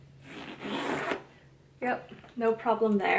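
A Senreve belt bag zipped shut in one quick, close, rasping pull of about a second, then a short pause before a person speaks.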